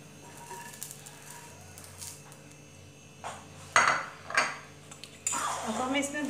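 A cooked rava uttapam is lifted off a pan with a metal spatula and set onto a plate, producing a few sharp scraping clinks and clatters of metal on cookware in a quiet kitchen.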